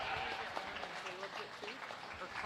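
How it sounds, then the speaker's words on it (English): Audience applause for exhibitors in a sheep and goat show ring at the 2022 Dickinson County Fair, a light steady patter of clapping at moderate distance mixed with an announcer's voice. "Let's give all these exhibitors a round of applause."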